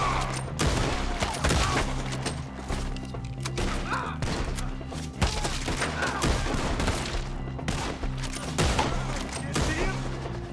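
Shootout in the Red Dead Redemption 2 video game: rapid, irregular volleys of gunshots and thuds spread throughout, moderately loud, with occasional voices underneath.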